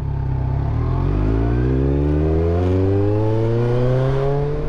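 Kawasaki Versys motorcycle engine while riding on a rural road, a loud close drone that climbs steadily in pitch as the bike accelerates through the gear, continuous with no talking.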